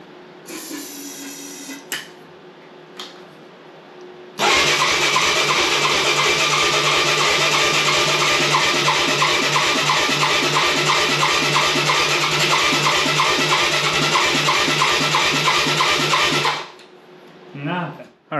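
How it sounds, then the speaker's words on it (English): A Yamaha Moto 4 ATV engine, fed carburetor cleaner, catches after a few faint preliminary sounds and runs loud and steady for about twelve seconds with a rapid, even firing pulse, then cuts out abruptly. "let's see if it will pop on some carburetor cleaner"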